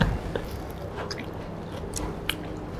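Someone bites into and chews a crisp pumpkin and goat curd arancini close to the microphone, with crunchy, squishy chewing sounds and a few sharp crackles.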